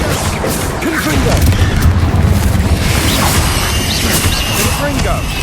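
Blasts from the Confringo spell in Hogwarts Legacy crash and boom again and again across a frantic wizard battle, loud, dense and layered with shouted incantations and combat clatter.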